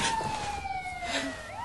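Emergency sirens wail in the distance, a steady tone sliding slowly in pitch, with a second siren sweeping in near the end, moderately loud and alone.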